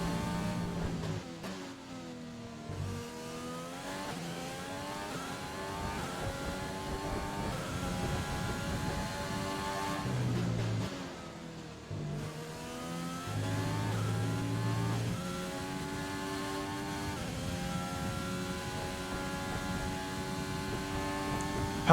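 A Formula 1 racing car engine in a video game whines loudly and continuously, climbing through the revs and dropping sharply at each gear change and braking zone, with no talk over it.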